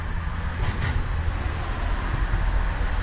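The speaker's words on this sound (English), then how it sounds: "you can probably hear the cars roaring past" Passing road traffic roars on a quiet afternoon in Langton, a steady broadband rumble of cars with low engine and tyre noise at moderate distance, no talking.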